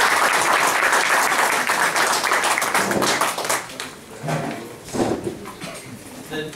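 Applause from an audience at a school board recognition ceremony, a dense wash of clapping that thins and fades toward the end into scattered claps.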